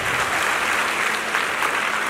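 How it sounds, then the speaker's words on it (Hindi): Sustained applause from an audience at a felicitation program for PUC toppers and students of Al Sharay PU College, steady dense clapping throughout with no pauses. "एक बार जोरदार ताली आपके लिए बजा देंगे।"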